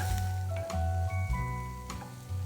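Onion with coriander frying in a pan, a close sizzle punctuated by repeated low thuds and stirring knocks over a few seconds, with no talking.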